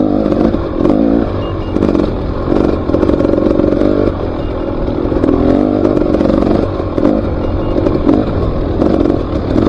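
An enduro motorcycle rolls slowly along a woodland trail, its engine held at a steady low throttle and loud and close, with clattering and scraping from the rough ground running underneath.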